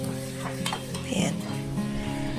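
A spoon stirs chopped tomatoes into pork belly sinigang with taro in a cooking pot, giving soft scraping and clinking against the metal over a low simmer, close and steady.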